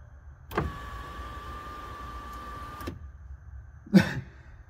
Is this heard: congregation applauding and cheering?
no